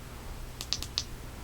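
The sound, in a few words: Mateminco MT07 flashlight button double-clicked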